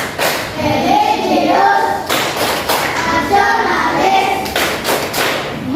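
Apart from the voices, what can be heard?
class rhythmic clapping chant Tepuk PPK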